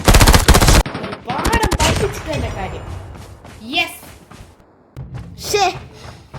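Automatic gunfire in Call of Duty Domination bursts rapidly at the start, followed by sporadic shots while children talk over the game.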